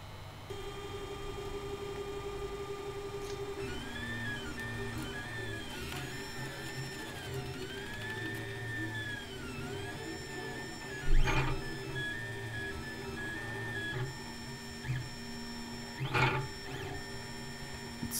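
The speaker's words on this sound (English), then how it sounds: "It's starting to print." A Malyan M200 Monoprice Mini 3D printer printing, with steady motor hum and rising and falling stepper whines sweeping in arcs, plus a few sharper mechanical clicks, close and alone.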